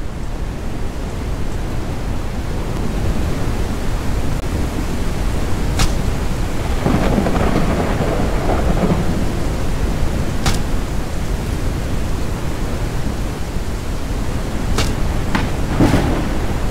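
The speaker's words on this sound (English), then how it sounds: "Caution. A storm is coming." Thunderstorm in the survival video game Forever Skies: a steady wash of rain-like noise with several sharp distant thunder cracks and a rumbling stretch in the middle, continuous and fairly loud with no voices.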